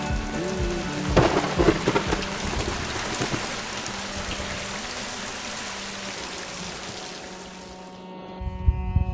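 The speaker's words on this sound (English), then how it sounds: "It is pouring with rain though" Heavy rain pours steadily in Mongolia while thunder rumbles low and long, with a sharper crack early on; no voices.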